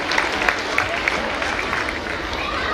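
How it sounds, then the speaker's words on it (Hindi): Applause from a mushaira audience at a school function, a dense steady clatter of clapping that runs the whole time, with a few sharper claps standing out. "तालियों की गनगरज में इनका इस्तकबाल कीजिए जनाब गिरगिट माहौली साहब।"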